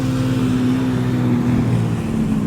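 A Porsche GT3 RS engine hums with a loud, steady, droning tone that stays even throughout, without talk.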